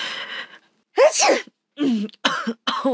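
A person sick with flu symptoms sneezes and coughs in several loud, close bursts separated by brief silences, each a harsh explosive fit with strained vocal tone.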